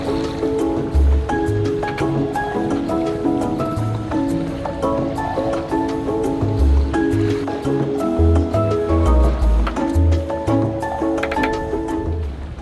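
Sea waves slosh and rush against a sailing boat out at sea, a continuous, fairly loud wash with low thumps as the hull meets the swell, and rigging or gear creaking and rattling throughout.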